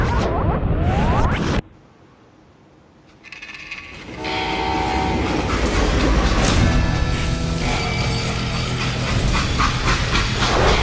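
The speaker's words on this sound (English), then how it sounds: "how'd they stop this train in the first place?" A freight train rumbles loudly past, with a brief quieter gap and then a return of heavy rolling noise, clattering wheels and metallic screeches that build and continue to the end.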